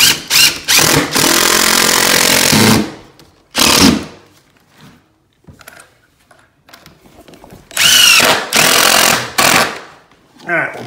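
A power drill drives 1¼ inch decking screws into a floor being repaired before carpet installation, loud whirring bursts of a few seconds each separated by quiet pauses, close by.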